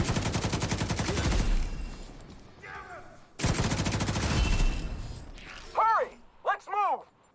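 Gunfire in The Division 2, loud rapid bursts of automatic shots filling the first seconds, then another heavy burst midway, with game voices and effects between and after.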